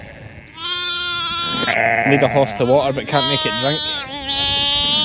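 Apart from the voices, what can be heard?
distressed ewe bleating for her lamb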